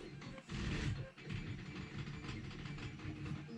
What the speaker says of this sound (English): printer's going crazy in the background